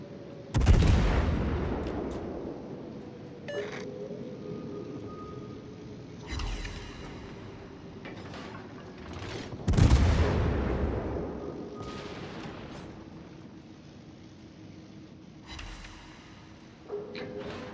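Warship guns firing in a naval battle game, several heavy booming salvos spaced apart, each with a long rumbling decay, loud and close, with fainter distant shots in between.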